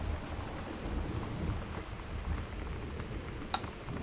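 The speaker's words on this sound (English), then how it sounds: "So I need to secure windows because there's a storm." Steady rain and rumbling thunder of a storm in the video game Gone Home, a continuous dense wash with a brief sharper crack near the end, no talking.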